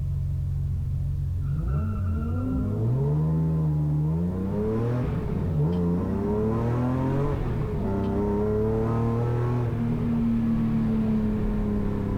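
A rallycross race car, an E36, revs hard on track with rising and falling engine pitch through gear changes, while other cars' engines roar nearby; loud and continuous throughout.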